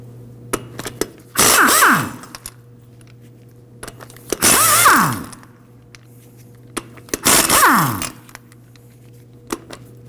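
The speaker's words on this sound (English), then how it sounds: "We can go ahead and remove the lug nuts with a 19mm." Impact wrench spinning off front wheel lug nuts with a 19mm socket on a 1993-2001 Subaru Impreza, three separate loud bursts of about a second each, rising and falling in pitch, separated by quiet gaps and small clicks.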